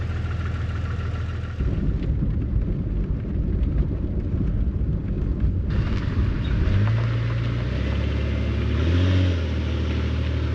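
A Jeep XJ engine rumbles steadily as the vehicle drives after a crank position sensor replacement, the revs rising and falling with shifts in speed.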